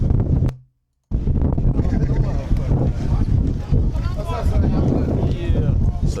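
Strong wind blows outdoors in Chicago, buffeting the microphone as a loud low rumble. It cuts out briefly near the start and then gusts on continuously. Voices can be heard through it.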